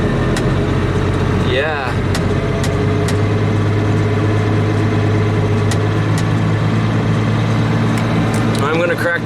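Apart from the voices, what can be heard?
tractor running a hay baler via PTO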